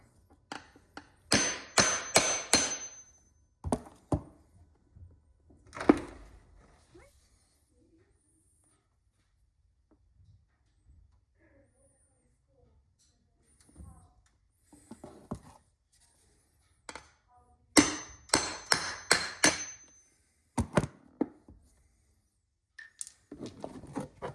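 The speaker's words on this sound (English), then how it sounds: "And a nice little hammer tap." A few sharp metallic taps from a small hammer while installing a floor liner in a Ford Super Duty truck come in quick clusters, close and crisp, with quiet gaps and a little handling noise between them.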